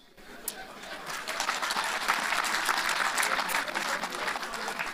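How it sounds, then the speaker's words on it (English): Audience applause at a public event honoring a governor, a broad crowd clapping that swells after a brief start and stays steady and fairly loud, with a few sharper claps standing out. "So I think Governor Wike deserves an applause."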